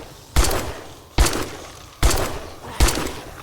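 Four loud, evenly spaced gunshots in the 7 Days to Die video game, fired to blast out a block, each a sharp crack with a short decaying tail and no talk between them.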